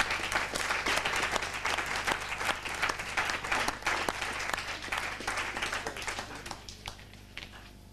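An audience at a Brussels comedy show in 1993 claps in a sustained round of applause, even and fairly close, thinning out toward the end.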